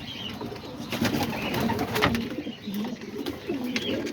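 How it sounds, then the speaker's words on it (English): Several pigeons coo in low, rounded, repeated phrases close by as they feed, with soft rustling and faint wing movement in the background. "All the pigeons right there."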